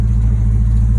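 The big block engine of a classic muscle wagon gives a brief, loud, deep-throated rev, a dense low rumble heard close up.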